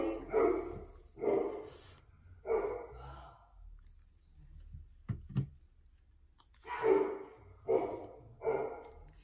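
Dogs bark in short bursts, several barks early, a pause, then another quick run of barks, fairly close with quiet gaps between.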